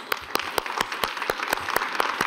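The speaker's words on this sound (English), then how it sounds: "Give them a big applause" Brisk applause for a panel at the World Economic Forum summit, a close, loud run of sharp individual claps at a quick even rhythm over a bed of wider crowd clapping.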